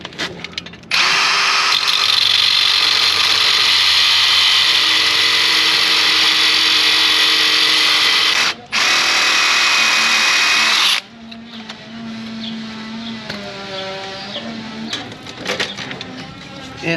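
Power tool, likely an impact driver or drill, removing bolts from a Can-Am Ryker suspension: a loud, close, sustained whir for about ten seconds with one brief pause, then quieter clinks and handling noises.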